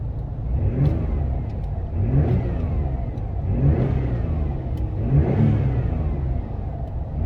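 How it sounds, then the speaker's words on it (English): A turbocharged V6 in a 1990s sports car found in a barn, revving in steady swells that rise and fall about every one and a half seconds, loud and close with no voices. "See if we can hear the turbo."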